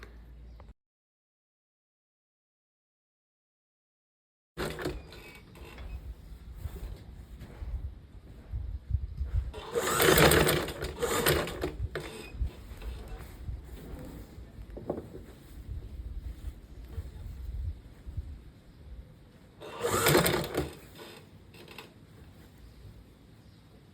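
A sewing machine stitches a frock after a short silent gap, its steady mechanical running hum continuing close and fairly loud, with two stronger surges of faster stitching.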